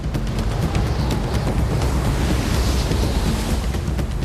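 Heavy ocean surf pounding against a pier, a loud continuous roar of crashing water with strong low rumble and wind buffeting, no voices.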